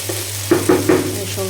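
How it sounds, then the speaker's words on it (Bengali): Potatoes with turmeric powder fry in a pan, a close sizzle under several quick, clattering stirs of a spatula bunched together mid-stretch, fairly loud and brief. "এখানে যে আলু ভাজিটা হচ্ছে রান্না।"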